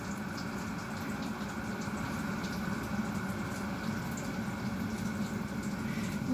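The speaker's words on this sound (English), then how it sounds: "This boils quicker than it does on my stove." An electric kettle heating water to a boil gives a steady, dense rumbling roar that holds at an even level throughout, with a faint bubbling hiss on top and no voices.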